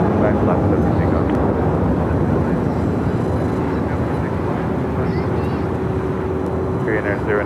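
A jet airliner taking off at LAX bound for Seoul, a steady broad engine roar filling the scene at constant loudness, with radio chatter from air traffic control faintly mixed underneath.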